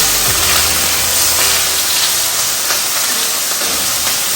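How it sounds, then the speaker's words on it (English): Loud, steady sizzling hiss of steak frying in a hot pan, continuous and close, with no voices. "So I add my steak. I'm going to fry it for a little bit until it's brown."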